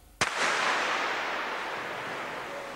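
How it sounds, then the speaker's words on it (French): A single gunshot cracks out sharply on a French film set, followed by a long, loud decaying blast of noise and echo with no talking. "Allez, coup de feu."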